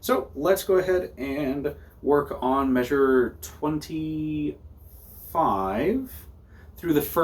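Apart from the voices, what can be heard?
No everyday noise stands out behind the speech.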